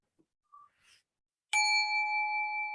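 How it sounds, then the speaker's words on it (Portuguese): A single bell is struck once in a quiet room during a guided talk, its clear metallic tone ringing on steadily and slowly fading, after a few faint soft sounds. "Vocês vão ouvir um sino assim."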